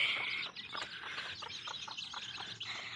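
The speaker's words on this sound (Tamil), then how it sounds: "கோழிங்களாம் அழகாக இருக்கா." Grazing chickens cluck and chirp in short, quiet, irregular calls over a faint outdoor background.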